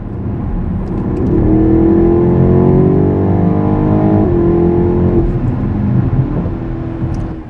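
A BMW X6 M50i driving on a cement road, its engine and exhaust droning loudly and steadily, with the pitch swelling up and easing back down as the throttle changes.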